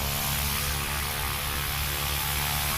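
A STOL competition airplane in Gallatin, Tennessee, its propeller engine spooling up with a steady droning hum and broad airy wash, moderately distant and unbroken for a few seconds, with no talking.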